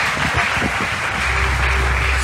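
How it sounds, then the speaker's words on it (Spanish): Applause from a live worship concert audience, a dense steady patter of many hands filling the room, with low music starting to come in under it toward the end. "un aplauso, Señor"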